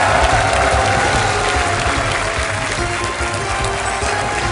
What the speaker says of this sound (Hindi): जोरदार तालियों के साथ इनका स्वागत किया जाए।